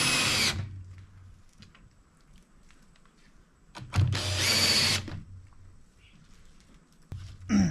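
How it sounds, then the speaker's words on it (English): A power drill whirs in two close, loud bursts of a few seconds each, separated by quiet handling sounds, with a third short start at the end. "now you got to drill"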